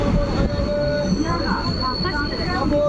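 A train rumbles steadily along the rails near Kankra Mirzanagar station, West Bengal, with a loud, continuous roar and high metallic wheel squeal.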